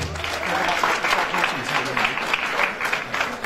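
Audience at a school regional competition applauds steadily, a dense even wash of clapping that carries through without breaks, with voices mixed in under it.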